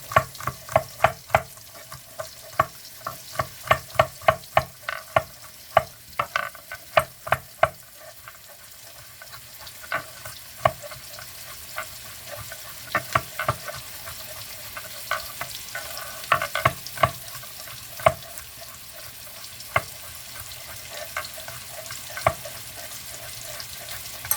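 Garlic frying in a pan for a Guyanese-style seim curry, with a faint steady sizzle under repeated sharp clinks and scrapes of a spoon stirring against the pan.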